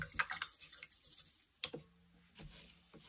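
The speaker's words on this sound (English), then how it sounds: "When you've finished mixing, it's time to wash our mucky brush." A mucky paintbrush swished and tapped in a pot of water after mixing paint, giving soft irregular drips, splashes and taps, faint and close.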